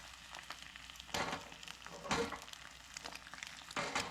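An egg frying in a pan, cooked over medium, gives a steady soft sizzle with a few brighter crackling bursts from spatula scraping, fairly quiet and close.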